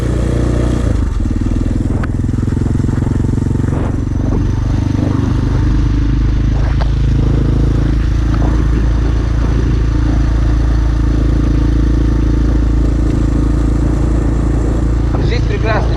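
A Kayo TT 125 dirt bike ridden home after its engine seized, its engine droning loud and steady throughout with road rumble and occasional clatter, close up.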